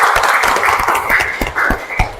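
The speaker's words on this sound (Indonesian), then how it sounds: "Tepuk tangan dulu." Children clap in a classroom in a short, close burst of irregular claps that sound fairly loud.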